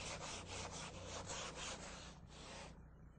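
Body filler being sanded with 80 grit sandpaper on a sanding block, a run of rhythmic rasping strokes, close and steady, about eight back-and-forth passes before stopping.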